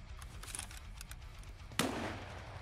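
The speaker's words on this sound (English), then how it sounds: "this hip firing works way better than just aiming down the sights" Hip-fired gunfire in the video game Escape From Tarkov, a single sharp, fairly loud shot at the end of a quiet stretch, with faint scattered clicks before it.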